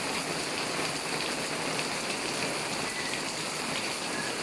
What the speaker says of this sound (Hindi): ये देखें बहुत तेज़ बारिश है और अभी बारिश शुरू हुई है कोई 5 मिनट पहले